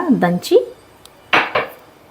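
A piece of ginger pounded with a pestle in the kitchen while making masala tea: two bursts of metallic clanks, with a brief voice at the start, then a pause and two more sharp strikes.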